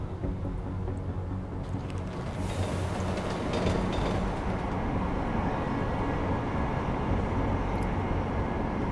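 A subway train rides along in a Deus Ex: Mankind Divided cutscene, a steady, full-bodied rumble of wheels and carriage noise that stays loud and even throughout.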